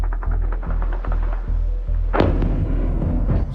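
Heavy booming blasts like artillery or gunfire, a run of rhythmic deep thuds followed by one sharp, louder crack that rolls into a long rumbling wash, tied to a Russian nuclear missile exploding.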